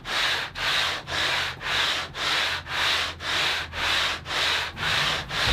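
Steady back-and-forth sanding of a guitar's wooden rim at the end wedge area, about eleven even strokes in a row, close and fairly loud, with no talking.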